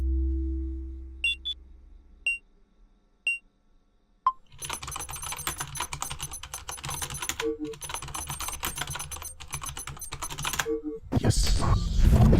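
Keyboard typing during a kernel attack in the horror game Welcome to the Game: a few sparse beeps first, then a long run of rapid, close keystrokes that ends in a louder burst of noise.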